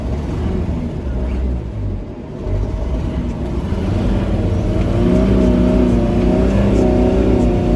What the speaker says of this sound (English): I'm wheel spinning in the snow.